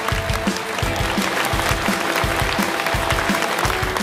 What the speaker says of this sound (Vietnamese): Một tràng pháo tay cho ban nhạc ghê hùng.